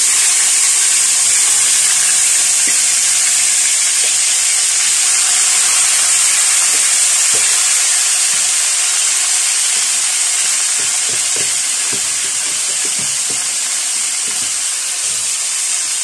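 Marinated mutton fries in a pot for biryani, a steady loud sizzle and hiss running unbroken throughout, with faint scattered clicks and pops beneath.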